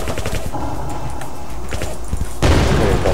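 Rapid gunfire from the arcade shooter Crispy Chicken, defending against aliens, rattles in dense bursts over busy game sounds and ends in a louder burst of blasts.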